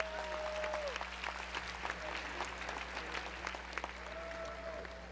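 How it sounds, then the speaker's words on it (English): Audience applause at a student athlete awards ceremony, a steady wash of clapping from a crowd held at moderate level for several seconds, with some voices and cheers mixed in. "How about a big round of applause for everyone?"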